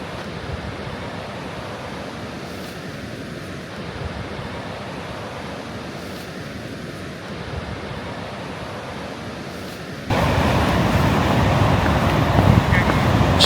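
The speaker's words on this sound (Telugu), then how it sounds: "చాలా పెద్దగా ఉన్న అలలు అయితే" Big Pacific Ocean waves roll in at Short Sand Beach in a constant broad roar with wind buffeting the microphone, swelling louder near the end.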